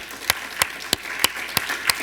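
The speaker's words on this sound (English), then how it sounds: "You can clap for our movie star over here." Six slow, evenly spaced hand claps ring out crisply at a community meeting, sparse rather than a full round of applause.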